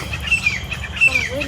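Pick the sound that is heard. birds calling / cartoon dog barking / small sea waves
birds calling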